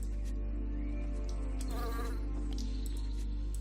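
A large swarm of wasps buzzes continuously in the video game Lords of Xulima, a dense droning hum with a brief louder flurry partway through.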